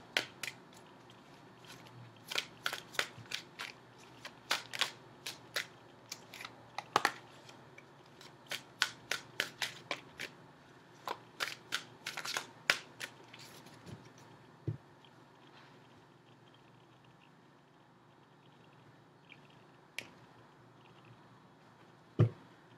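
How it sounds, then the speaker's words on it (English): A deck of tarot cards is shuffled and cut, giving a string of sharp, close riffling snaps and taps in irregular clusters that thin out toward the end over a quiet background. "Give me just a few more seconds and I'll cut the cards."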